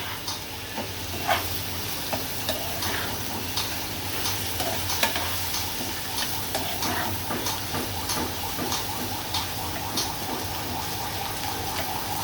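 Shrimp and onions sautéing in a pan, with a continuous close sizzle and frequent scraping stirs ticking through it over several seconds, no voices.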